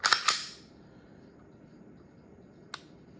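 A Smith & Wesson 10mm pistol with a new trigger dry-fires: two or three sharp, close metallic clicks in quick succession, then quiet, then a single lone click a couple of seconds later.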